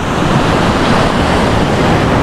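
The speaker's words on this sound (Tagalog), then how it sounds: "Malakas yung alon at saka hangin." Strong surf crashes continuously at close range, heavy waves rolling in while gusting wind buffets the microphone, a dense, steady roar with no voices.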